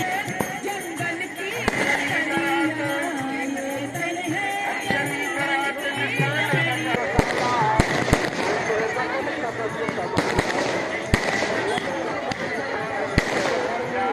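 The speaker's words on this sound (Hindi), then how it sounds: "बीती रात 12 बजते ही ग्वारी घाट में शानदार" New Year midnight fireworks over Gwarighat on the Narmada river: loud, sharp bangs and crackling bursts, denser in the second half, ring out over a constant crowd din and voices.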